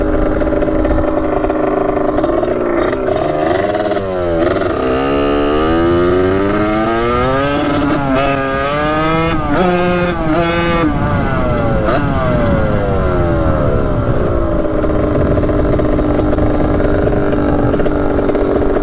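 A cheap dirt bike engine runs loud and close, revving up and down repeatedly with rising and falling whines and a rattly buzz, no talking over it.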